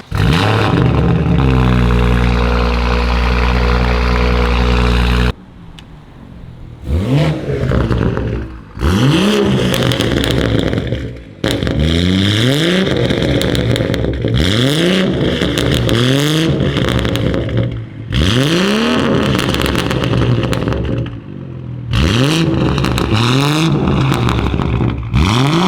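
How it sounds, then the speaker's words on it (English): A BMW 440i with a loud custom exhaust drones at high revs, then rises and falls through repeated aggressive revs close up. "Andy's BMW 440i is back to being a beast that it was meant to be"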